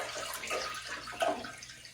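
Carpet cleaning solution pours into the tank of a Bissell ProHeat 2X Revolution Pet Pro carpet cleaner, a short, close liquid splash and gurgle with no talk.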